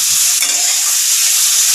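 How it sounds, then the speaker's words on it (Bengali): Chopped onion and chilli sizzle steadily in a hot pan, a loud, close, continuous frying hiss with light stirring and no talking. "পেঁয়াজটা কিন্তু খুব বেশি ভাজবো না, মানে খুব বেশি কড়া ভাজবো না"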